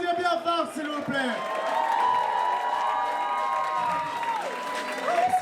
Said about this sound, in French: Les enfants, on peut les applaudir bien fort, s'il vous plaît.